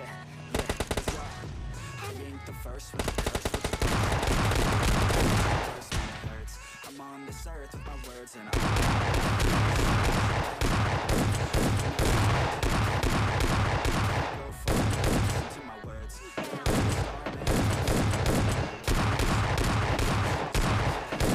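S12K shotgun fire in PUBG Mobile Lite comes as rapid, dense bursts of repeated shots, loud and close, separated by short gaps.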